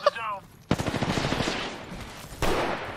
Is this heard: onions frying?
no